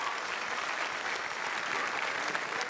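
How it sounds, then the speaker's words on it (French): A large audience at the World Pastry Cup gives the organizing committee a round of applause, steady dense clapping heard at a distance in a big hall, even and sustained. "A huge round of applause for our organizing committee."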